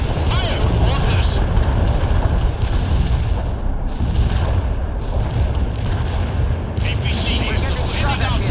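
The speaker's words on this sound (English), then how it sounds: "8076 have a missile locked. Fire!" Missile launches and booming blasts in the World in Conflict strategy game, a continuous roaring battle soundscape with several sharp bursts and distant voices chattering through it.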